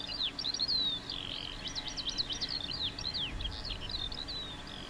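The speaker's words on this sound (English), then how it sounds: "Birds." Several small birds chirping and tweeting in quick, high, repeated bursts over a soft outdoor background, fairly close and continuous, with no talking.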